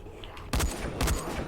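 Two loud, close gunshots from the video game Dying Light, probably a shotgun, each a heavy boom about half a second apart, following a brief quiet stretch.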